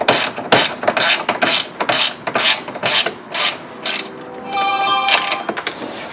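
A hand ratchet cranks down the winch mounting bolts on a 2004 Outlander 400 ATV, giving about nine close, loud, evenly spaced rasping strokes, then a brief ringing metallic tone with more clicks near the end, with no talking.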